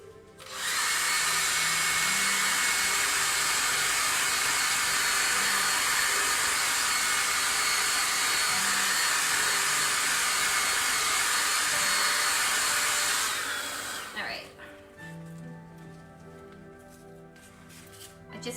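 Heat tool or hair dryer drying ink on a stamped holiday card, a loud steady whir running continuously for about thirteen seconds before cutting off, with quiet handling noises after.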